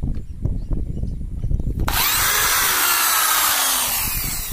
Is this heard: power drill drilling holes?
yes